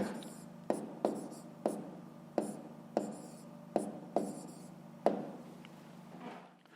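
A pen writes numbers by hand, probably on paper, with about eight distinct sharp strokes in a steady rhythm, close and fairly quiet, and no talk.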